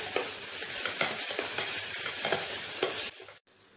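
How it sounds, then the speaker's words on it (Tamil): Tomatoes with salt are stir-fried in a pan for a mutton keema and chana dal dish, with a loud steady sizzle and regular scraping strokes of the spatula, fading out at the end. "இப்போ நம்ம தக்காளியை சேர்த்து வதக்கிடலாம்."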